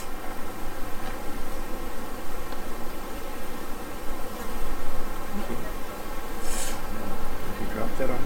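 Honey bees swarm with a dense, continuous buzz around an open hive as a frame is lifted out, the droning close and loud throughout with faint rustling handling sounds beneath.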